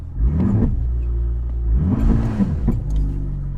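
A 2016 Cadillac ATS-V engine revs up and down in two steady surges while line lock holds the wheels and the car stays put, a deep continuous rumble throughout.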